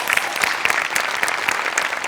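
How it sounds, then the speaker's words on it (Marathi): A stage comedy audience claps steadily and warmly, a dense and even patter of many hands at moderate loudness with no voices on top. "श्याम्यासाठी एकदा टाळ्या वाजल्या पाहिजे"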